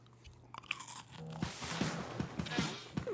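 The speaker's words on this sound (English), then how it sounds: "That's a Kit Kat. That's got some nice crunch to it." A Kit Kat bar is bitten and chewed close to the mouth, a crisp snap followed by a steady series of rhythmic wafer crunches.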